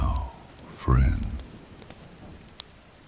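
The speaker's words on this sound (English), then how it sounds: "the rain has gentled to a whisper against these ancient stones" Soft, steady rain patters against ancient stones in a quiet, low ambience, with one brief louder voice-like swell near the start before the gentle wash settles back.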